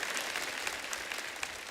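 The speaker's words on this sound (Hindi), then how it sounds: "आप सबकी जोरदार तालियों से please welcome mister Shubhankar Tawde." An audience claps in loud, dense applause welcoming a guest onto a Marathi television show stage, a continuous crackling wash with a few sharper claps standing out.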